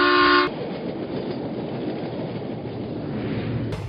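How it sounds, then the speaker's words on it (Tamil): A train bound for Tirupati opens with a short loud horn toot, then carries on with a steady rumbling roll of wheels on rails. "எல்லாரும் திருப்பதிக்கு போற ட்ரெயின்ல ஏறினாங்க"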